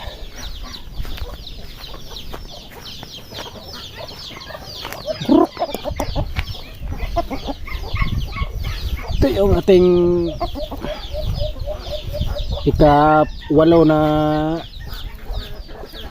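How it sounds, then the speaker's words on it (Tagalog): A backyard flock of chickens, including about eight roosters, clucks continuously in the background while someone talks, with a few loud rooster crows rising near the end. "marami tayong sunoy dito mga klode"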